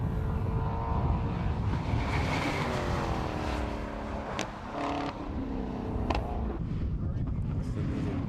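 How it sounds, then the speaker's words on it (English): A Ginetta race car on the back straight at Anglesey circuit, its engine droning steadily under continuous crowd and wind noise, with a few sharp gearchange blips. "So again, we'll give you some more engine noise."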